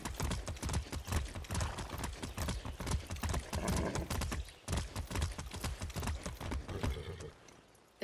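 Horse galloping in Far Cry 6, rapid rhythmic hoofbeats close and continuous, briefly breaking up partway and fading near the end, moderately quiet with no clear speech.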